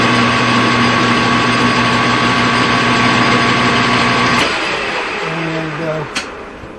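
A metal lathe turns down half-inch threaded rod, running with a steady whine and hum that cuts off partway through, after which it spins down with faint clunks and a brief clatter.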